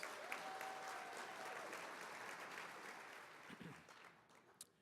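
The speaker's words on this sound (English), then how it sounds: "Let's give our WRA supporters a big round of applause." Applause from the audience at an awards gala, a steady wash of clapping that fades gradually over several seconds, fairly distant and without speech.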